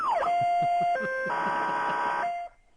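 A voice imitates a police siren on a radio show, a clear wavering tone that sweeps down then holds and shifts between steady pitches before cutting off abruptly.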